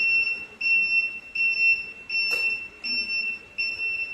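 A YOYU electric scooter's turn indicator beeps in a steady, evenly spaced run of bright electronic tones, about one every three-quarters of a second, with a single sharp click partway through.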